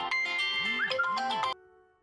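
A melodic electronic phone ringtone plays close up for about a second and a half, then cuts off abruptly into quiet.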